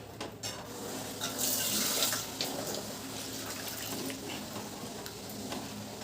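Water pours into a pot of pumpkin sambar with boiled dal, a rushing splash close by that is loudest for the first couple of seconds, then settles into a softer, steady bubbling hiss.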